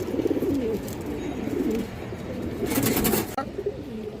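Pigeons coo close by in a loft, with soft rolling coos layered over one another and a brief burst of flapping or rustling near the end.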